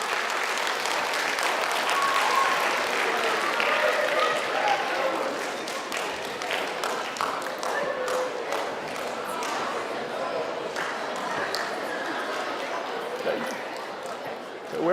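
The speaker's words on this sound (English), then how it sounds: "definitely give them a round of applause" Loud, sustained applause from a school assembly crowd welcoming staff and faculty on the first day at Elm Street Middle School in Nashua, NH, with dense clapping throughout and voices mixed in.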